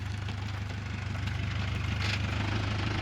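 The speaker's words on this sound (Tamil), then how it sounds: "இது வந்து டிரைவிங் ஸ்கூல் வண்டி" A driving school car idles nearby with a steady low rumble and an even hum that holds for the whole stretch.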